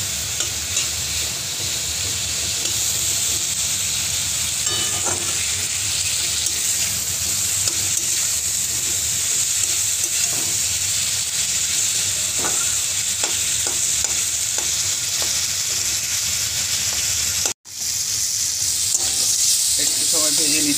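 Green chilli and tilapia fry steadily for a fish curry, a loud continuous sizzle with scattered stirring scrapes and one brief break in the noise, with no talking.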